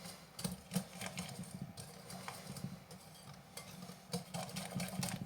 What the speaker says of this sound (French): On mélange.